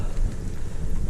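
Light wind buffeting the microphone during a gravel bike ride through the Forêt de Saint-Germain, a continuous low rumbling gust with no talk.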